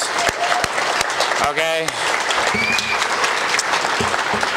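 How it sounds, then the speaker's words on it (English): Applause from an event audience honoring the organizer, steady crowd clapping throughout with a brief voice rising over it partway through. "And if we can give her a big round of applause."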